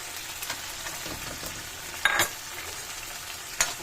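Sardines and chopped tomatoes mixed and fried together in a pan: a steady close sizzle with a few sharp spatula scrapes and stirs, one louder clatter about midway and another near the end.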